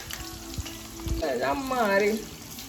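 Onion hits hot oil with garlic in a pan for a Marathi ridge gourd dish, a soft sizzle and stirring clatter rising after a few light knocks, with a voice talking faintly over it.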